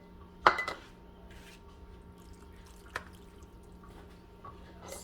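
A sharp clatter of metal against a hot glass canning jar as chili ground beef is ladled in, followed by a faint clink and quiet drips in an otherwise still kitchen.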